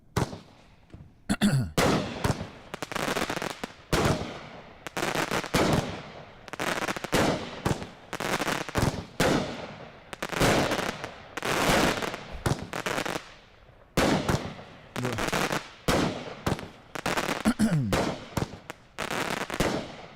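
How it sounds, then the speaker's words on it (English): Japanese hanabi fireworks heard from a played recording, a long dense barrage of loud sharp bangs and crackling bursts in rapid irregular succession, nearly continuous throughout. "Insanely strange fireworks. Amazing Japan. Hanabi Japanese fireworks."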